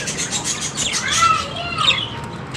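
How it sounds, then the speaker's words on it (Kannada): Pet lovebirds kept at home chirp and twitter in a rapid, high-pitched chorus close by, with quick overlapping calls filling the short moment. "ಪಕ್ಷಿಗಳದ್ದು ಎಷ್ಟು ಸೌಂಡ್ ಇದೆ, ಎಷ್ಟು ಚೆನ್ನಾಗಿದೆ ಅಲ್ವಾ"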